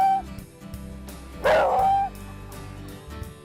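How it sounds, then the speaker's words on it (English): A Beagle gives a single drawn-out, howling bay lasting about half a second, loud and near, rising over a steady humming background. "And in addition to barking, Beagles also howl or bay."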